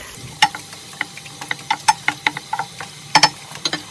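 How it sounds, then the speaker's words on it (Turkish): Onions sautéing in hot oil outdoors for a rice and fresh spinach dish, with a steady quiet sizzle broken by repeated sharp stirring clicks and crackles from the pan, no voices. "Soğanlarımızı pembeleşinceye kadar kavuracağız"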